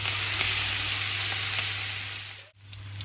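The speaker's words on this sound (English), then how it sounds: "I like to add a little bit more butter to the pan. And just go ahead and add all your blood sausage there." Blood sausage sizzles steadily in a buttered pan, a dense, close frying hiss that runs unbroken and dips briefly near the end before resuming.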